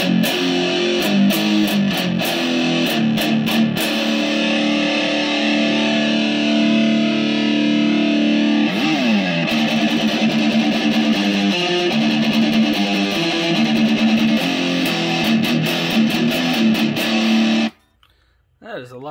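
An electric guitar plays through a Horse Pocket Metal distortion pedal with volume, mid and distortion knobs set at noon, producing loud, thick, sustained gain-heavy chords and riffs that ring for about eighteen seconds before stopping abruptly.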